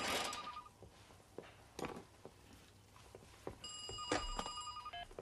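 A home telephone rings in short bursts, one near the start and another later with a bright electronic trill, amid clatter, knocks and household movement.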